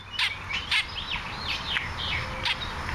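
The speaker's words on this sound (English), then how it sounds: "Look at this little chubby blackbird right here in my bed." A small, plump blackbird chirps several times in short bright bursts, moderately close, over a low steady background hum with no talking.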